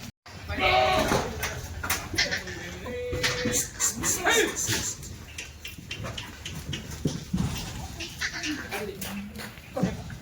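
Goats bleat repeatedly nearby, including a pregnant reddish-brown doe, several wavering calls mixed with people talking and some shuffling movement.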